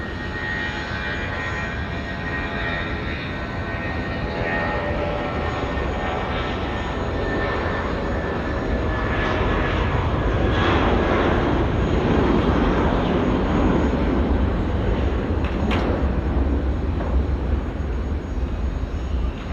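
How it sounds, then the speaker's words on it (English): A passenger plane takes off from runway 23 at Auckland Airport bound for Wellington, its engines a loud, steady roar that swells toward the middle and holds for the full stretch, with no talking. "Our friends now departing to Wellington."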